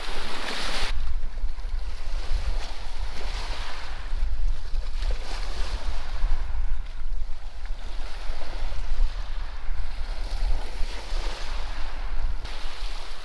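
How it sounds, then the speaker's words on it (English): Waves surge and wash over a rocky beach at Rockport State Park, tumbling the stones, in a loud continuous roar with heavy wind buffeting the microphone throughout. "The waves really move the rocks around a lot."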